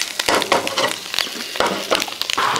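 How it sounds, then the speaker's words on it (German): Potatoes tossed in a hot pan on a gas grill, a steady loud sizzle and frying crackle with brief scraping, stirring bursts, heard up close with no talk. "So, jetzt nochmal kurz die Kartoffeln schwenken."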